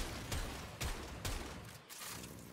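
Several sharp gunshot bursts from a multishot weapon in the video game Warframe fire in quick succession against a dense, noisy backdrop, each volley punching through at roughly half-second intervals.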